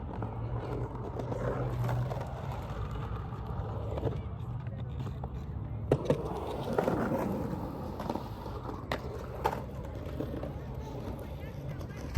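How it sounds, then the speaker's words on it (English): Skateboard with new wheels and bearings rolls along pavement, giving a low continuous rumble with a few sharper clacks and bumps over joints. Some faint voices mix in under the noise. "here goes the maiden voyage with these new wheels and bearings"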